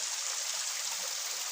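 Water pours down the Alinsulang waterfall in Tigbon, Calatrava, making a steady, bright rushing hiss with no pauses and no voices.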